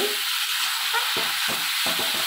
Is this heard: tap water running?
no